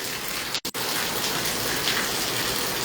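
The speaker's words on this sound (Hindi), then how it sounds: "हिसार और आसपास के क्षेत्रों में तेज़ बारिश जो है वो शुरू हो चुकी है।" Heavy rain pours down in Hisar, a dense, steady hiss of downpour on surfaces that carries on throughout, broken only by two very brief dropouts near the start.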